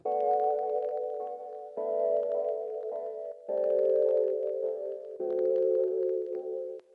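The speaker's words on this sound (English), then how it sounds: "I've got this nice pad sound." Sustained synth pad chords shifting every second or so, warm and slightly wavering, playing alone at a steady level.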